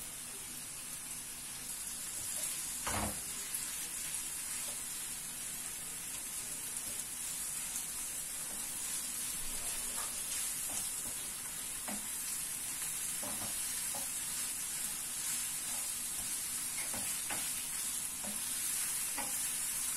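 Around 250 grams of minced meat fries in a pan, giving a constant close sizzle broken by repeated scraping stirs of a utensil against the pan.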